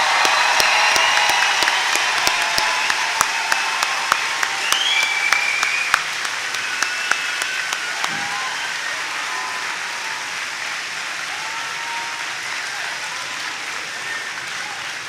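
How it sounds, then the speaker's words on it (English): A large audience at a convocation applauds the graduating class of 2026. The clapping is sustained and dense, with a few sharp individual claps near the start, and it thins gradually toward a softer, steady patter while scattered cheers rise briefly. "And one big round of applause for the entire class of"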